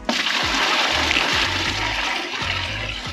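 A toilet flushes with a steady rushing, swirling gush of water, loud and close, holding for a few seconds and easing slightly toward the end.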